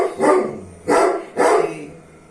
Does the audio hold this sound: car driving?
no